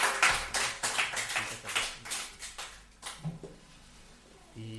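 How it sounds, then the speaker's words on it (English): Audience at a live variety show claps along in a steady rhythmic beat, about a dozen firm claps in a row that thin out toward the end. "can we just give them a little bit of warm sunshine with a clapping of our hands?"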